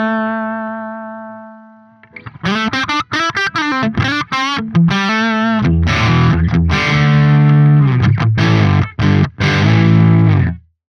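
Distorted electric guitar through a Neural DSP Soldano SLO-100 amp simulation with the mids cranked, loud chugging riffs and ringing chords after a held opening note, thick and saturated.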